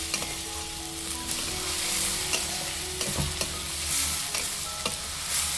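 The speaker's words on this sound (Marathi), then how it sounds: "कांद्याचा कच्चापणा जाईपर्यंत आपल्याला इथं कांदा चांगलं परतून घ्यायचा आहे" Onion sautéing in a little oil in a pan on high flame gives a continuous loud sizzle, broken by several sharp scrapes and knocks of a stirring spoon against the pan.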